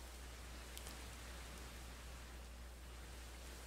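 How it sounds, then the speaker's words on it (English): Rain falling steadily in a jungle, a faint, even hiss with a few soft drop ticks and no voices. "Time for the rain to stop."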